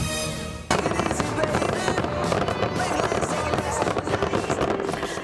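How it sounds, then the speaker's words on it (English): Dense, continuous fireworks bursts and crackles after a brief quieter opening, loud and overlapping with a steady roar of explosions, at the finale of the 2018 Bay City Fireworks Festival. "The 2018 Bay City Fireworks Festival finale taking place tonight, and what a fantastic show"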